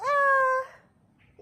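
A British Shorthair cat lets out one clear, drawn-out meow close by while playing, followed by quiet and a faint small sound.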